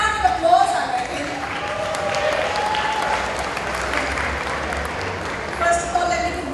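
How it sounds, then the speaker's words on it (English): Sustained audience applause at an awards ceremony, a dense wash of clapping from a crowd filling the whole stretch, with some faint voices mixed in. "A bigger round of applause, I reckon."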